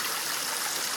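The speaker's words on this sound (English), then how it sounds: "It's the same stream." A mountain stream runs beside a hiking trail, a steady close rush and babble of water with no break.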